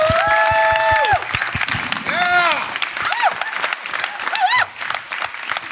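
Audience at a live podcast recording gives a round of applause, a dense burst of clapping with some cheers and whoops rising over it, while a voice speaks through the first seconds.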